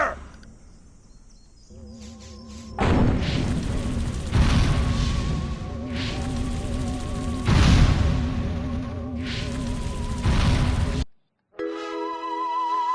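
Human soldiers open fire in Destroy All Humans!, loud repeated booming bursts layered with buzzing, whining game effects, stopping abruptly near the end before a brief tonal sound.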